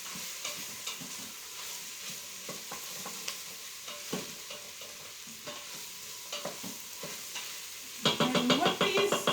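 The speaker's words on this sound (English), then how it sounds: "let's just get these stirred in together." Mushrooms being stirred in an Instant Pot while making beef stroganoff: irregular scraping and clacking of a utensil against the pot over a soft sizzle, with a louder burst of scraping near the end.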